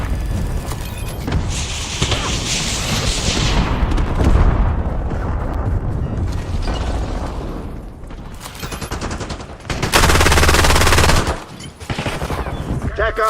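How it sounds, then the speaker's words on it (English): Heavy automatic gunfire and blasts from an Archangel strike in a military shooter video game, loud and sustained, with a burst of intense firing toward the end. "Firing Archangel."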